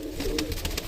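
White-eyed Punjabi and Saharanpuri pigeons at a bird market coo softly in a brief, faint burst of low rounded calls with some soft rustling around them.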